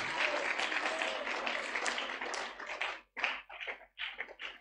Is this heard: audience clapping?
yes